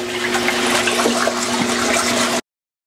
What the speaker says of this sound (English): And now we're just agitating.